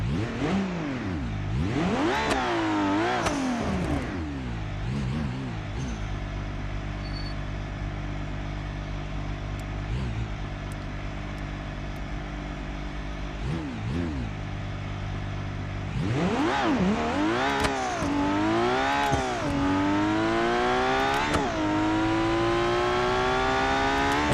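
A car engine in the driving game BeamNG.Drive revs hard and continuously, climbing and dropping through gears with a loud, buzzing exhaust note that rises again sharply near the end, with no talk.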